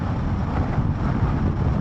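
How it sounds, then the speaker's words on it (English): Wind buffets the microphone during a ride on a 2021 Zontes T310-T Euro 5 motorcycle, a continuous loud low rumble and rush with no voices. "Yes, it's a bit windy, but it's not bad."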